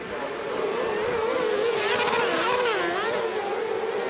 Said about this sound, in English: Love the noise these cars make.